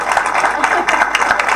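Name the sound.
audience applause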